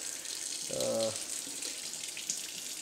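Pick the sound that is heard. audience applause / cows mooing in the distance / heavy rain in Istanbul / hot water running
hot water running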